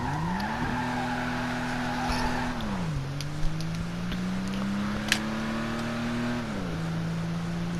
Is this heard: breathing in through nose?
no